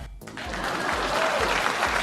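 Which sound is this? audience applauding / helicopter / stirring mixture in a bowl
audience applauding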